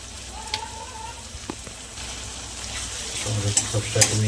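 Soya chilli frying in a pan as tomato sauce is stirred in, with a steady sizzle, scattered scraping stirs and a spoon clattering louder toward the end, while a voice speaks faintly underneath.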